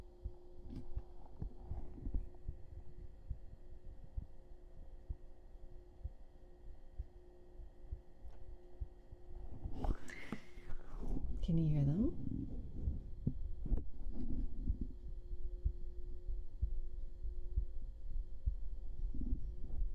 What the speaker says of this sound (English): We'll do some heartbeats.